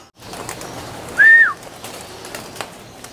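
Pigeons returning to a loft give a short soft coo-like call midway, standing out briefly against a quiet outdoor background with faint rustling.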